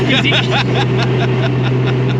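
Steady low exhaust drone from an RWB Porsche 911 with a new 964 engine while driving, a constant hum filling the cabin with a voice talking over it.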